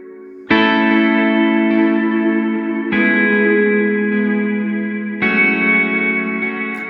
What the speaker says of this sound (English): So now I'll put a huge reverb on it.